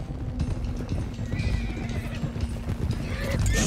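A stallion neighs loudly while hooves clop along at a steady rhythm, close by, with some excited movement and background commotion, in Red Dead Redemption 2.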